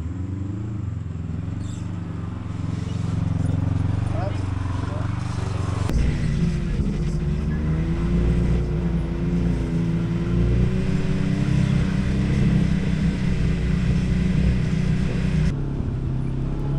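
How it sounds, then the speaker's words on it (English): A Can-Am off-road vehicle engine labours steadily up a high mountain trail above the tree line, losing power in the thin air, a continuous loud rumbling drone with a shift in pitch partway through and voices faintly underneath. "we noticed the machines were really struggling to breathe and we were losing a ton of power"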